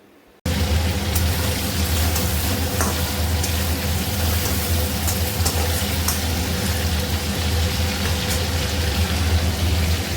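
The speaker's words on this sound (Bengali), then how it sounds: "তো এই যে মাংসটা আমার ফ্রাই করা কমপ্লিট হয়ে গেছে" Chicken pieces fry in a pan, a loud, dense sizzle starting abruptly after a brief silence and holding steady close up with occasional light clicks, no speech over it.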